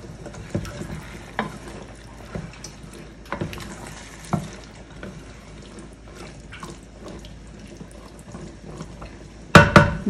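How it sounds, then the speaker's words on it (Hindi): Water pours into a pot of chickpea curry simmering over medium heat, a wet splashing burst near the end after quieter kitchen clatter and soft drips; no talking. "इनके अंदर हम थोड़ा सा पानी डालेंगे"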